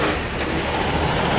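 A water truck's air brakes let out a loud, sustained hiss on a city street in Reno, Nevada. The broadband hiss is close and steady, with traffic rumble underneath.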